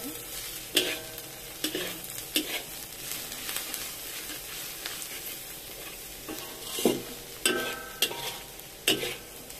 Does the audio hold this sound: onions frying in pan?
yes